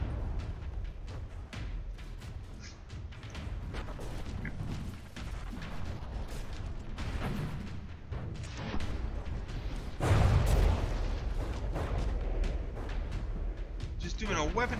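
Artillery cannons fire during a ship battle in the From the Depths video game, with booming shots rumbling under steady commentary and one heavier burst standing out midway.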